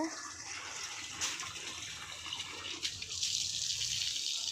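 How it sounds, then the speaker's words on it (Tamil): Steady rushing water from a tap filling two buckets, continuous and fairly close, growing slightly louder toward the end. "எங்கள் அம்மா மாட்டுக்கு தண்ணி வைக்கிறதுக்கு 2 வாளி பிடிச்சிருக்காங்க"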